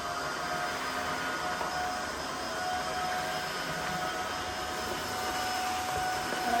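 Tineco Floor One cordless floor washer running with its brush activated, a steady close whirring hum with a faint high whine holding evenly throughout, no talking.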